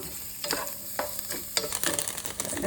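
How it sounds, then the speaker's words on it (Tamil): Grated coconut frying and being stirred in ghee in a pan, a steady sizzle with scraping stir strokes at irregular intervals, close and alone. "தேங்காய் நல்லா பொரிஞ்சு வருது"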